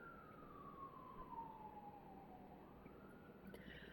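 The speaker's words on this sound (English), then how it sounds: "Sirens, right? I don't know if that was the cops or the ambulance, okay?" A distant siren wails steadily, its pitch sliding slowly down and then rising again over a constant background rumble.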